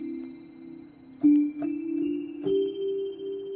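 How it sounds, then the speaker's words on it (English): Single notes played on an organ bells voice of a Roland Go Keys 5 keyboard ring out one after another, each struck tone sustaining cleanly with bright overtones, quiet and alone. "Here's how the organ bell sounds in notes."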